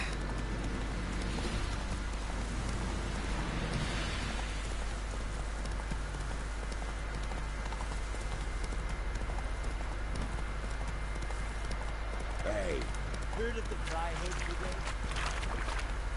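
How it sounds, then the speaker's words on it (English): In the Witcher 3 video game, a horse's hooves clip-clop in a steady rhythm while riding through rain, with a voice talking over the hoofbeats. "Ezért nem szeretek lóval menni, mert össze-vissza buglódok vele."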